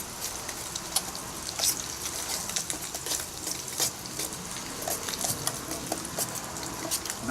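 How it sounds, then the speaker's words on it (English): Grits being stirred in a Toaks titanium camping pot, a soft continuous scraping and wet sloshing with small irregular clicks from the spoon against the metal, close and fairly quiet. "Stir them grits."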